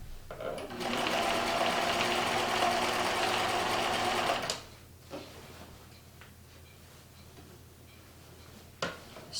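A sewing machine stitches a quillo in one close, rapid whirring run for about four seconds, then stops, leaving a quiet room with a single faint click near the end.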